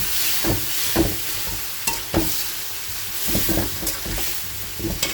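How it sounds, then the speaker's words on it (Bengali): Koi fish fries in hot oil with a continuous crackling sizzle, punctuated by several scraping stirs and spatula knocks against the pan. "আর এদিকে কই মাছটা ভাজা হচ্ছে"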